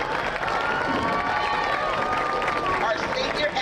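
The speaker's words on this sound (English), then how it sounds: "please give a round of applause for all of our senior Bobcat football players" Crowd applause and cheering at a Bobcat high school football game honoring senior players, a steady dense wash of clapping and voices filling the stands with no break.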